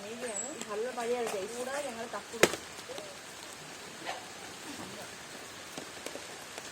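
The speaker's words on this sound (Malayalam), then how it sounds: "നല്ല മഴ പെയ്തു നനയുകയാണ്" Heavy rain falls steadily in a soft continuous patter with occasional heavier drops, while a voice speaks briefly at the start.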